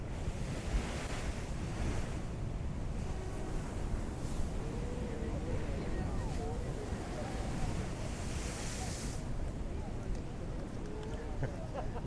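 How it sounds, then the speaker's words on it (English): Ocean waves surge and crash at Thor's Well on the Oregon coast, a continuous rolling roar with wind buffeting the microphone. Voices murmur faintly underneath. "It gets exciting when those waves come in."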